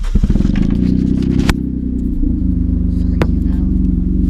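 A car with a blown, exploded exhaust idles loudly and close, a deep uneven rumble with rapid rough pulsing and a couple of sharp pops or clatters through it.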